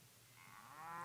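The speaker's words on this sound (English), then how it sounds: "Bull mooing." A bull moo sound effect from an RPG mystery video game, a short, very quiet, rising low tonal call heard alone for about a second.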